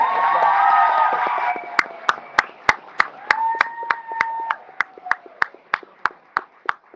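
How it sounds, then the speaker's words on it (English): A crowd at a Detroit City Chess Club award ceremony claps for the chess coaches after a brief cheer, scattered rhythmic claps that begin loud and near and slowly thin out. "give a round of applause to your coaches"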